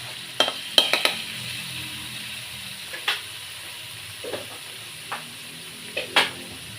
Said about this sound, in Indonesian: Nah minyaknya sudah panas teman-teman, lalu kita ambil bumbu tadi, kita masukkan